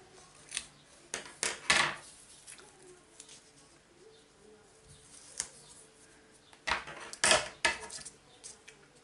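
Scissors snip closely around stamped paper images, giving scattered clusters of crisp cuts and rustles separated by quiet gaps.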